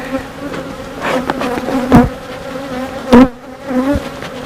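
Dense, steady buzzing of many honeybees close by around an open hive, with individual insects swelling louder as they fly past.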